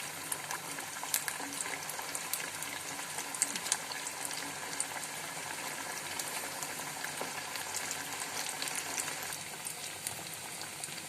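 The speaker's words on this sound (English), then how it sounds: "Now it's time for shallow frying them" Steady crackling sizzle of potato cheese crispers shallow frying in hot oil, with dense popping and spitting throughout, close and fairly loud, no voices.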